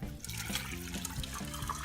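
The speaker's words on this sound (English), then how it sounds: "Now I'm gonna add 6 cups of water." Water pours steadily and continuously into a Farberware pressure cooker pot holding beans, a close, full-bodied splashing rush with no talk over it.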